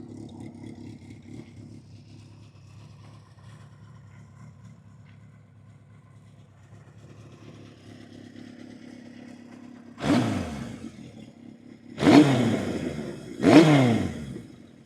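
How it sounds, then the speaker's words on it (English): A Kawasaki Z1R motorcycle engine idles with a low steady burble, then revs three times in sharp, loud blips near the end. "engine is running really good."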